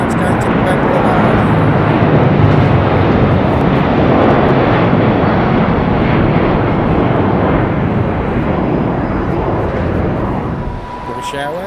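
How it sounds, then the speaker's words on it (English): British Airways Boeing 737-200 in oneworld livery at London Heathrow, a loud broadband jet roar filling the whole stretch and easing slightly at the end, with a voice talking over it. "737-200 in the British Airways, and it's One World livery."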